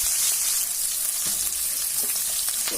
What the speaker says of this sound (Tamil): கருவேப்பிலை பச்சை மிளகாயும் போட்டு ஒரு வதக்கு வதக்கிடலாம் வெங்காயம் வதங்கும் போது